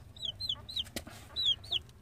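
A chicken gives five short, thin, downward-sliding peeps in quick succession, fairly close, with a brief knock in between and a quiet low background hum.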